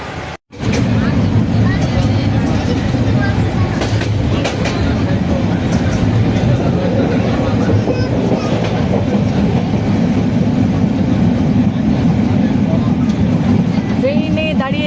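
Inside a crowded train carriage waiting at a station, a loud steady rumble of the train and surrounding noise fills the space after a brief cut, while passengers talk throughout.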